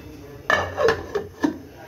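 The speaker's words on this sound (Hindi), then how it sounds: "मैंने इसको अब मैं ढक के रख दूंगी" A lid is set on a pot of bone-in meat (gosht) on the stove, giving a few quick metallic clinks and scrapes, close and moderately loud, spread over about a second.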